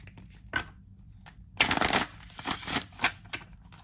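A slightly bent oracle card deck being bridge shuffled close up: a few soft riffles and taps, then a louder, longer riffling burst followed by smaller flicks.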